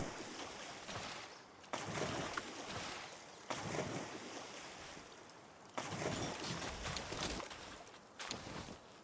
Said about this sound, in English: A waterfall.